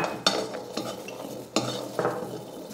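Metal utensil scraping and stirring peeled garlic dry-roasting in a pan, a few sharp clatters spaced apart with a soft crackle between them, close up.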